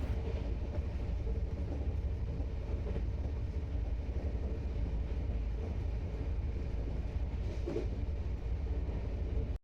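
The Bodinayakanur AC express train moving slowly near Villivakkam, heard from inside a second-tier AC coach as a continuous low rumble and hum, steady throughout with no talk.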